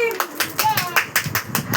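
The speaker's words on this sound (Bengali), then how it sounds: "এই হাততালি তো দে রে বাবা" Hands clapping in a quick, steady series of sharp claps close by, with people talking over them at a family gathering.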